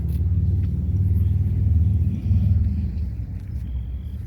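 A 2005 Dodge Ram 2500 with the 5.9-liter inline-six Cummins turbo diesel rumbles loudly and steadily at close range, holding a deep idle that swells slightly before settling, with no voices.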